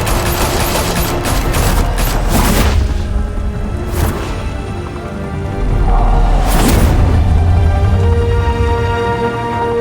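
Sustained automatic gunfire and heavy bursts in a Batman: The Telltale Series shootout, loud and dense throughout, with two big booming blasts rising out of the rattle.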